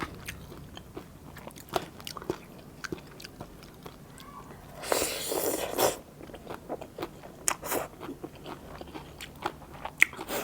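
Close biting and chewing of crispy pork tail, a string of sharp crunches with a louder burst of crackling in the middle, quiet and near with no speech.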